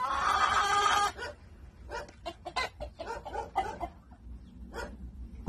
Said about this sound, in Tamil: இதுதான் கொரியன் கோழி.